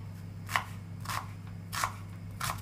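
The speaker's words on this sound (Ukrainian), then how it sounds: "Так, ось так ми ріжемо цибульку нашу." Knife chopping onion into fairly large pieces on a board, four separate cutting strokes spaced about a second apart, close and clear over a steady low hum.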